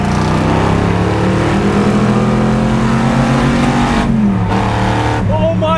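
Engines of a 2020 Shelby GT350R and a 1965 Shelby GT350 Mustang revving hard, a loud continuous throaty roar that rises in pitch, dips as a gear changes, then climbs again close by.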